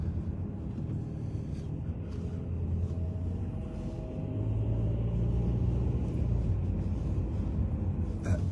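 Steady low rumble of a car driving along a road, heard from inside, the engine and road noise growing slightly louder partway through with no talk.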